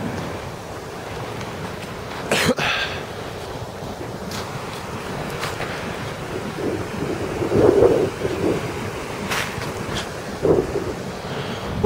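A waterfall rushes as a continuous broad roar with wind buffeting the microphone, and occasional louder splashes and knocks break through the steady wash of water.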